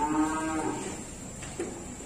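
Limousin bull cattle at a cattle dealer's yard low with a few drawn-out moos over steady background hum, with no one talking.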